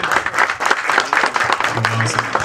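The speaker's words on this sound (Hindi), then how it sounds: "A big round of applause for the captain of the ship." Applause greets a film's captain at the trailer launch of the comedy Teri Bhabhi Hai Pagle, heard as loud, close clapping with crowd noise and a brief voice over it.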